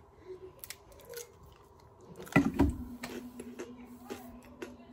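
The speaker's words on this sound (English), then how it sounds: "I'm eating some pretzels with some cream cheese." Crunchy pretzels with cream cheese are chewed close to the mic, with soft munching and a sharper crunchy bite near the middle, over faint background household noise.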